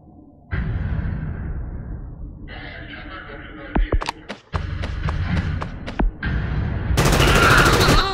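Several sharp gunshots crack among Frontline Tactics game sound effects and heavy background noise, a few single shots then a rapid cluster, with a German voice talking.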